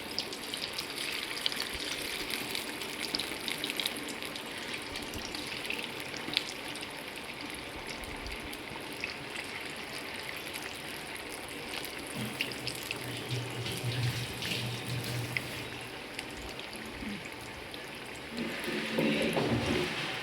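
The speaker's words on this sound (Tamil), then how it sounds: "எண்ணெய் காஞ்சதும் ஒரு பீஸாக எடுத்து போடுங்க" Marinated chicken 65 pieces with curry leaves fry in hot oil, giving a continuous close hiss and crackle that holds steady and swells briefly near the end.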